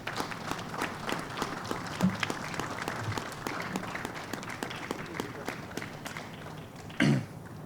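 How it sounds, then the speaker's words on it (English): An audience applauds during a senate swearing-in ceremony, a steady run of many close claps lasting several seconds, with a louder thump near the end. "Let's give them a round of applause."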